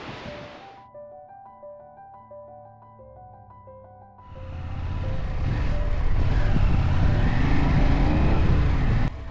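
Quiet tonal notes give way to a loud, steady engine roar and wind rush of a motorcycle cruising on a road in Morocco, continuing at high level before a sudden cut.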